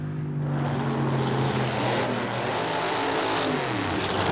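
Drag racing cars at a bracket race roar loudly and continuously at close range, a deep sustained engine thunder with rising and falling pitch, no voices.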